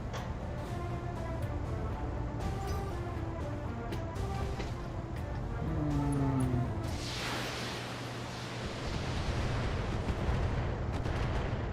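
Heavy weapons fire from a King Crab mech in the BattleTech video game, including dual Gauss rifles and an MRM 40 missile rack, as a string of booming shots and crackling impacts, with a sustained rushing blast of launches late on.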